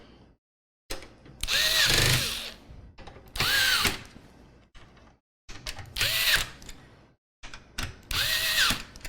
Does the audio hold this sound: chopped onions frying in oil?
no